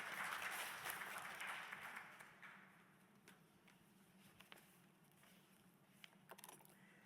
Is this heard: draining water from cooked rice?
no